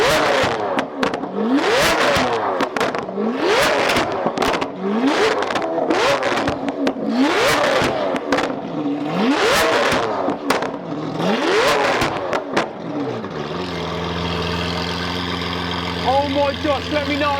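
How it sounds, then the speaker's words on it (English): A Liberty Walk Lamborghini Aventador with an extreme aftermarket exhaust revs hard in a run of loud, rising blips roughly once a second, cracking and popping between pulls, then settles into a steady burbling idle. "it's time to hear this Aventador Whoa, this exhaust is extreme"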